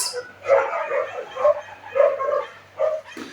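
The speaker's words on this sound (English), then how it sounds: "Oh my God, those dogs." Several dogs bark in repeated bursts, about four clustered yelps and woofs over a few seconds at moderate distance, intruding indoors with no talk over them.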